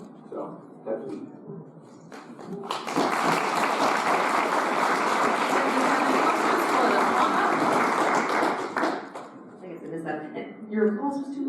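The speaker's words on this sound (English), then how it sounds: "Your applause was too loud." A convention crowd applauds after a voice actor panel, a dense sustained wash of clapping lasting several seconds, loud and steady before tapering off, with talk beneath it at the start and end.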